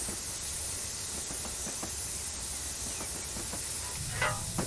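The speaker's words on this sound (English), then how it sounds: "Just one little coach in a mini steam train." A small steam train with one coach passing by in Train Simulator, heard as a steady loud hiss of steam with faint rhythmic clacking, ending in a brief sharper chuff, without talking.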